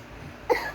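A single short cough from a child, close by, after a moment of quiet room noise.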